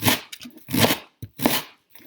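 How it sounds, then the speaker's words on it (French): A knife chops sausages into small pieces on a board, giving a run of sharp, close cutting thuds in an irregular rhythm with brief pauses between strokes. "je vais couper de chaque côté pour venir faire des petits bouts"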